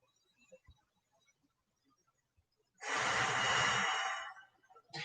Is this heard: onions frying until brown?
no